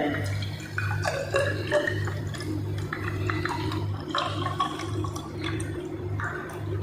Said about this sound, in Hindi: तो अब हम इसमें पानी ऐड कर लेते हैं।